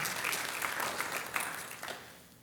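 Church congregation applause, a dense burst of many hands clapping together that peaks and then tapers off toward the end, fading into quiet room tone.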